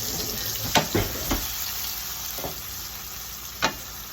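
Peas go into a hot pan with eggs, setting off a steady, close sizzle punctuated by a few sharp knocks and clatters of a utensil.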